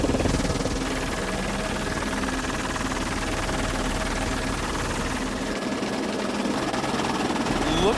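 Helicopter flying over waterfalls and mountains on Kauai, Hawaii, with a steady close rotor and engine drone filling the whole clip, its buzzing hum constant throughout.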